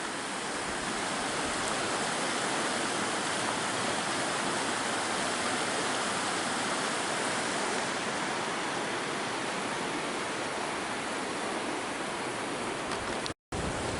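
Water pours steadily over a little dam set on a rock shelf along a nature path, a dense, even rushing roar that holds constant and close throughout with no voices.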